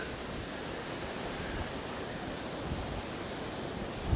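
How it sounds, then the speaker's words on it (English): Steady wind and breaking surf at a Fort Lauderdale beach roar in a dense, continuous wash of noise, with wind buffeting the microphone throughout. "Hopefully the wind dies down. It's wild though."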